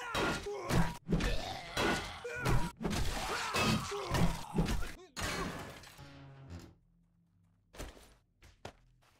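Repeated heavy thwacks and crashing impacts as a survivor beats into an ATM in 7 Days To Die, a steady run of loud hits over about six seconds, then quieter scattered knocks.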